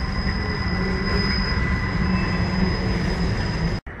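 A train heard near a rail yard between Cincinnati and Chicago, with a loud, continuous rumble of wheels on track and a thin high steady squeal throughout, ending with a brief dropout.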